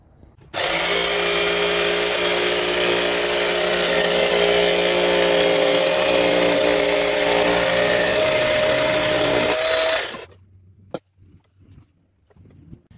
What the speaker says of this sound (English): So I'm gonna go ahead and get this base part cut out right now.